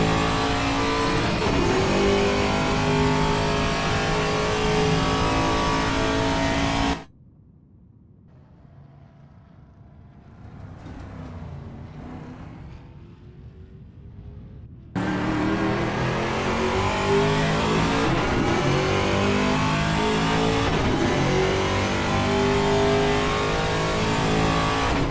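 V8 Supercars race engines from Assetto Corsa at Hidden Valley Raceway roar loudly and continuously, cut to a faint distant drone for several seconds, then return at full, close, sustained volume.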